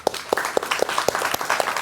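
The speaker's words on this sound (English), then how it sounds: "Please give them a round of applause." An audience at a panel discussion applauds the panelists in a short burst of steady, rhythmic claps that sound fairly sparse and close.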